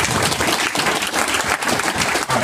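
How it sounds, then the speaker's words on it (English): A short burst of audience applause at a product meetup, steady and fairly close, dense clapping from many hands filling the space without talk. "a big round of applause over here"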